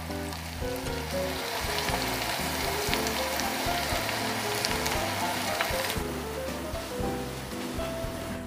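An egg fries in a pan over low heat, giving a steady, continuous close sizzle and crackle throughout, with no talking.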